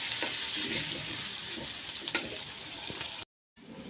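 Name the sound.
onions frying in a pan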